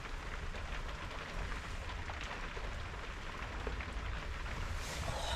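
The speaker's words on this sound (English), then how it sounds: "it's really raining." Heavy rain from Storm Ciaran patters densely and continuously on surfaces, a steady hiss with no break and no voices.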